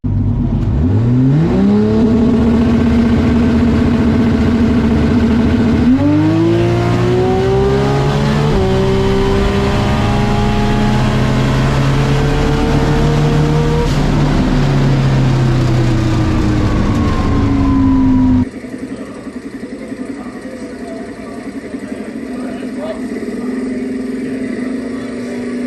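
A 2JZ-powered drag race car launches and accelerates hard down the track, a loud, continuous engine roar climbing through several gear changes before cutting off abruptly near the end.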